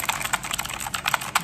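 Rapid keystrokes on the RGB Phantom keyboard of an Acer Nitro 5 gaming laptop, a close, steady run of clacky taps with a few louder strikes, heard alone.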